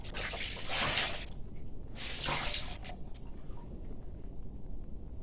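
Laundry is plunged by hand in a tub of rinse water, two sloshing, gurgling surges followed by quieter dripping and swirling water, close by with no talk.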